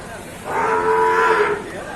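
Cattle at a livestock market give one long, loud moo that swells and fades over about a second, close by, against a steady background murmur of the market.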